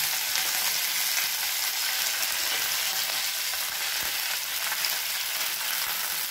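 Curry leaves, Bengal gram and urad dal frying in hot oil, giving a steady, dense, close sizzle that continues unbroken with no voices.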